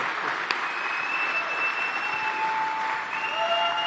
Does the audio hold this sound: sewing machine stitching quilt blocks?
no